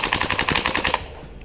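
VFC Umarex MP5A5 V2 airsoft gun firing on burst or full auto, a loud, fast, close rattle of about a dozen evenly spaced shots that stops abruptly, followed by a short fading tail.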